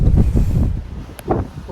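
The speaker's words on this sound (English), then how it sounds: "Wow, it's so windy, I can't actually talk." Strong wind on the Cheviot border ridge buffets the microphone in heavy, low rumbling gusts, with no voice heard.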